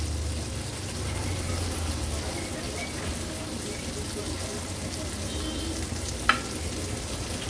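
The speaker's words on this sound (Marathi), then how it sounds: "परफेक्ट अशा आपल्या ह्या कुप्याच्या तुकड्या तळून झाल्या आहेत।" Tuna pieces shallow-fry in a little oil in a pan, giving a steady, moderate sizzle close by with one brief clink near the end, and no talk over it.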